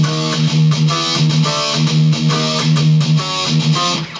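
Distorted electric guitar riff, the open low sixth string chugging with hammer-on notes on the fifth string, played loud and steady in a driving, repeated rhythm with no voice over it.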